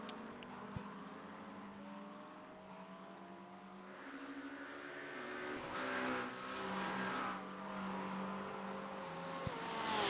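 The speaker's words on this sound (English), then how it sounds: "It'll be a McLaren versus McLaren battle with Porsche chasing behind." McLaren and Porsche race cars in a racing video game drone and whine with rising and falling engine notes, several cars overlapping at a moderate distance with occasional tire squeal.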